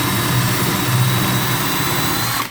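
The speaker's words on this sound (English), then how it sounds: "This is a 1/2 inch paddle bit," A half-inch paddle bit driven by a power drill bores into wood while a wall-mount bike storage rack is put up. The motor gives a loud, steady whirring grind that holds for the whole stretch and then stops abruptly.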